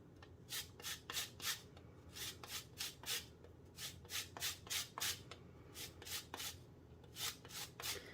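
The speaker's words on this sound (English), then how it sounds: "And I'm gonna get some zest going here." Lime peel is zested on a grater for cilantro lime rice, giving a steady series of short, soft rasping strokes in an even rhythm, close and fairly quiet, with no talking.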